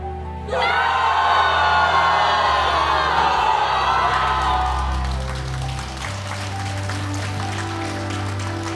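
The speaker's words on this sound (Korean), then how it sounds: "다시 한번 힘찬 응원의 박수 부탁드립니다" An audience at a Sangju poetry recitation performance breaks into sustained applause mixed with cheering and whoops. It starts abruptly, stays loud and dense, then eases slightly while continuing to the end.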